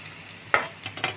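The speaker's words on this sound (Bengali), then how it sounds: "এটা আর একটু ভাজা হবে।" Chopped onion, torn green chillies, minced ginger and salt frying and being stirred in a pan for chira pulao, heard as a faint sizzle with a few brief scraping stirs over 1.2 seconds.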